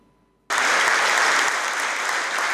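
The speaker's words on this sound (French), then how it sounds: "Un tonnerre d'applaudissements dans cet amphithéâtre" Loud applause bursts in suddenly after a brief quiet moment and continues as a dense, sustained clapping from a large crowd in a big school amphitheatre.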